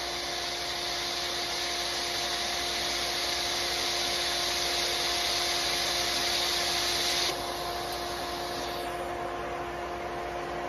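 A TIG welder holds a steady arc for a plug spot weld with the cup resting on the parent metal, a continuous loud hiss and buzz that cuts off abruptly after about seven seconds, leaving a quieter hum.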